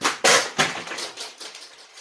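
A makeup palette falls and clatters, its pans popping out: a sharp impact at the start, a second strong knock, then several smaller rattling clicks that fade away, close and with no talking.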